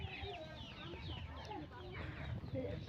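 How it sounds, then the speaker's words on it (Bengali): Village chickens cluck softly and intermittently in the background, faint and mixed with low outdoor ambience and distant voices. "কত সুন্দর সুন্দর মুরগি পালা যায়"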